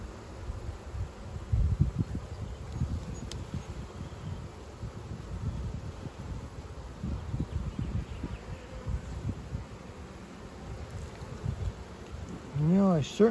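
Honeybees buzzing in an opened hive during an inspection, a low steady droning hum close by with rustling, plus a brief rising whine near the end.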